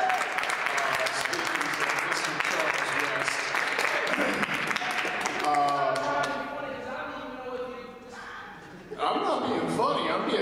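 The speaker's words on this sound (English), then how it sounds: "let's give a round of applause for this" Round of applause from an audience at a live stage show, dense sustained clapping that fills the room for several seconds, thins out toward the end, then briefly swells again.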